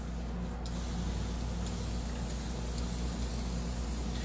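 A spray bottle mists water onto Chalk Paint brushed over wood in a continuous, close, steady hiss, with no speech over it.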